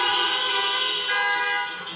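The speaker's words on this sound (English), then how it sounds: "And you can honk now." Many car horns honk together at a drive-in university convocation, a sustained dense chorus of overlapping toots held for the full two seconds, loud and steady with no talk.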